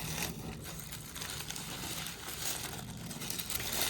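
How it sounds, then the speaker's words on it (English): Paper packaging from a sewing club subscription box rustles and crinkles continuously up close, with crisp crackling bursts as it is handled and crumpled. "Sorry about the rustling."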